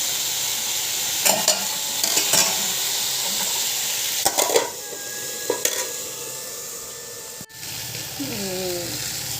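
Okra sautés in a pan with fried mustard seeds, a steady close sizzle broken by several bursts of scraping and stirring against the pan, with a brief clatter near the end.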